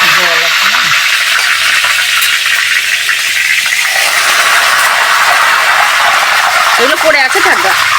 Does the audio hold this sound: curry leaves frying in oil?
yes